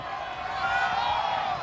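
Rugby league crowd of Dragons fans shouting in a stadium, a steady broad roar holding level throughout, with commentary voices talking over it.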